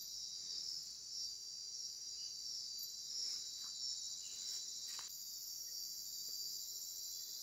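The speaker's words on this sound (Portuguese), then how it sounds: "as cigarras, os grilos, a natureza é demais." Crickets and cicadas trill in a continuous, dense, high-pitched drone outdoors in nature, steady and fairly faint throughout with no voices.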